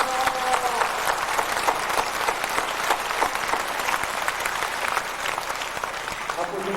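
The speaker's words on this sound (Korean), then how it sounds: "하나님께 영광의 박수." A congregation at a church revival service claps in a sustained round of applause, dense and steady throughout, loud with a crowd-like fullness.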